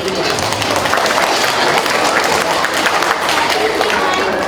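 Children clap for a police officer's rabbit-from-a-hat magic trick at a school presentation, a loud dense patter of many hands filling the room throughout, with voices mixed in.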